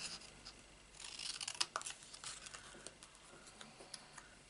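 Scissors snip an inch square of paper for a Christmas tag buckle. Crisp cutting and rustling come up close in a quick cluster, then fade to sparse small snips against a quiet background.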